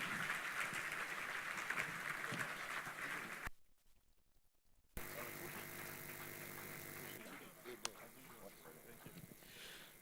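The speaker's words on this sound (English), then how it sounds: "Please, another round of applause for our panel" An audience applauds a panel at an evening event at House On The Rock, The Refuge, with a dense, steady clapping wash that drops out briefly midway and then returns just as full.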